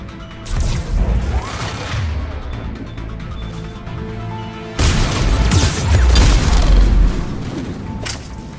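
A turret firing during a Mass Effect 3 mission at Grissom Academy, producing loud, dense booming bursts in two long stretches, close and heavy, over the game's continuous background.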